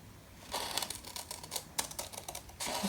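Scissors snip through paper while trimming a memory keeper book cover along a drawn line, giving a run of close, crisp cuts with short pauses between them and no talking.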